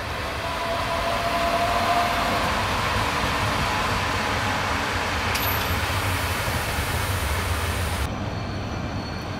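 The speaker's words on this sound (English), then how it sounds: "A metro train approaches the FS station at Catania main station." A Circumetnea metro train approaches the FS stop at Catania main station in Sicily, a loud, continuous rumble and rolling wheel noise filling the underground platform, steady throughout with a brief high squeal midway.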